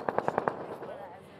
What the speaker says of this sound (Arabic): في صوت رصاص كتير قوي من جوا